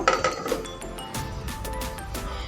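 A metal lid clinks onto a pan of baking salted biscuits, a few bright close clinks and rattles, no talking.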